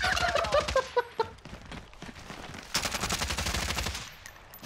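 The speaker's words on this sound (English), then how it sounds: "the hell is this shooting" Rapid bursts of automatic gunfire and single shots from a video game shootout, loud and dense, with a quieter gap in the middle before a second heavy volley.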